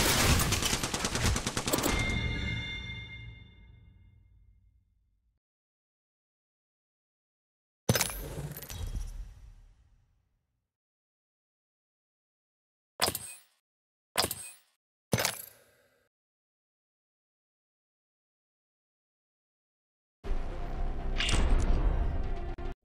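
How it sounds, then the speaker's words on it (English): Gunfire in Apex Legends Mobile: a loud burst with a decaying tail, then separated sharp single shots, and another heavy burst near the end, with dead silence between. "Getting shot at."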